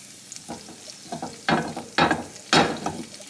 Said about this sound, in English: Oil starting to heat up, mixing up the garlic and the celery sticks